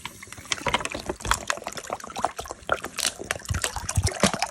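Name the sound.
water being poured into a pot for ginger tea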